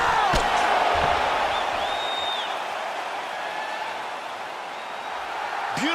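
Crowd roar after a knockout in the UFC 3 fighting game on PS4, a steady broad wash of cheering and applause that holds for several seconds, with brief thumps at the start and end.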